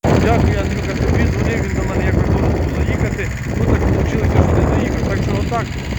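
A Kubota B5001 mini tractor engine runs with a steady, loud, close rumble and chug, with wind buffeting the microphone and someone talking over it throughout.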